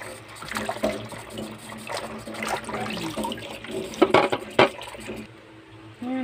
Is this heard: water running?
yes